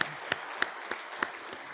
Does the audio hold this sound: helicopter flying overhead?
no